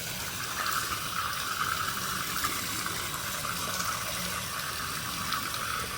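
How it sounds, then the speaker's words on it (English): Tap water runs steadily from a faucet over a K&N pod air filter being rinsed clean, a continuous close gushing splash with no talk. "Let the water run."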